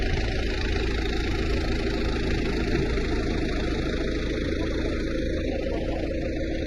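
A tractor engine drones steadily at idle, low and rumbling, with a faint mechanical vibration running continuously and no voices.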